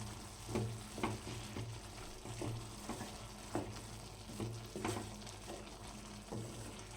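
Ginger garlic paste is stirred in a sizzling pan of mushroom gravy, a spoon scraping in repeated strokes over a steady, close frying hiss.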